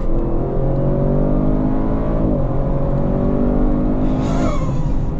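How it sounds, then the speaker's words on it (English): An Audi RS7 Performance with 621 horsepower accelerating hard in RS drive mode, heard from inside the cabin as a loud, steady engine roar climbing in pitch with a brief shift dip midway. "So that's what 621 horsepower feels like."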